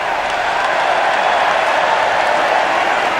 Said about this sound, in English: Crowd applauding as though it's been happening all night